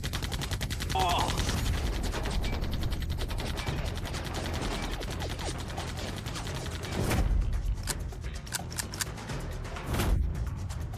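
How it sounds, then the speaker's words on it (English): Guns firing in an animated fight, heard as rapid bursts of gunfire and crackling shots over a dense, busy mix, with louder impacts and sharper cracks near the end. "Why did both guns jam at the same time?"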